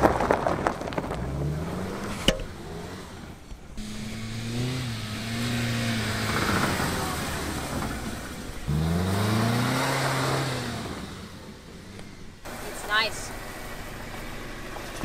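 A go-kart built from a Kia Spectra car revs its engine loudly in rising and falling surges, with people talking and shouting over it throughout.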